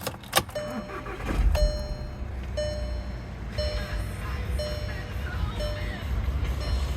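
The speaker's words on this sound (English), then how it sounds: "Go ahead and give her a start up." A 2014 Volkswagen Jetta TDI Premium diesel cranks briefly and starts, then settles into a steady close idle with faint clattering, while a voice talks briefly over it.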